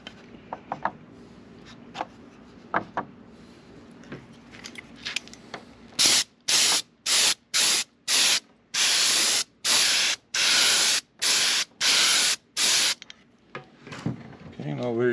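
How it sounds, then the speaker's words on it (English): A Critter spray gun sprays urethane finish onto a wooden dog bone sign in a burst of about ten sharp, loud hissing pulses with brief gaps, close up, preceded by quieter handling clicks and followed by soft shop noise. "And I'm spraying it again with my Critter spray gun."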